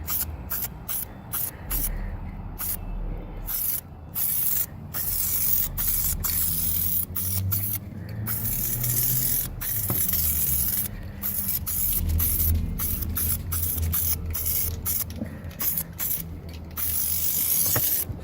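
Aerosol can of automotive touch-up paint sprayed onto a 2003 Cadillac CTS quarter panel outdoors, a steady loud hiss in repeated long bursts with brief gaps and clicks between passes, wind noise underneath.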